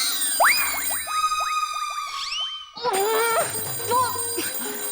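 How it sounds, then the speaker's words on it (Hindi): A landline telephone rings in a domestic setting with repeated electronic trills in quick bursts, followed by a softer, lower ringing pattern, and voices can be heard faintly beneath it. "अभी देखना लैंडलाइन पे फोन आएगा।"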